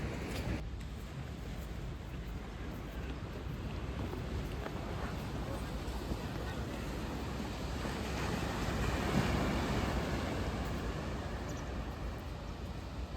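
Morning sea waves at the quiet Bagda beach, a continuous broad wash of surf with wind over the microphone, swelling slightly near the middle.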